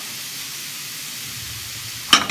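Vegetables sautéing in a hot pan for a steak sandwich, a steady low sizzle that jumps into a sharp hiss as the food is tossed at the end.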